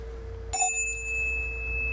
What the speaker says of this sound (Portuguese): são 3 toques de sino.